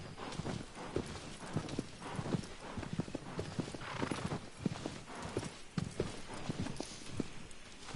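Horse hooves clip-clop in a steady rhythmic trot through a forest in Shadow of the Colossus (2018), a continuous close patter of hoofbeats under soft ambient game sound.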